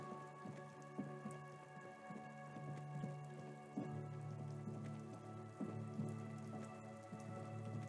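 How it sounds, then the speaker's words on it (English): Steady in-game rain in the video game Disco Elysium patters on surfaces with scattered droplet taps over a low, constant hum, continuing throughout without any voices. "It's raining."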